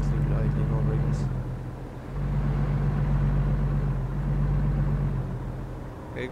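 A truck engine in American Truck Simulator idles with a low, steady rumble throughout, droning evenly with a slight dip midway.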